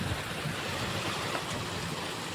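Floodwater from a river swollen by heavy rain rushes past broken embankments, a steady, dense roar of moving water with no pauses.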